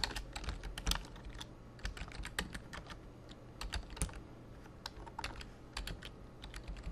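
Names being typed on a computer keyboard while filling in an online checkout form, with steady, quiet, close key clicks in quick irregular bursts and no talking.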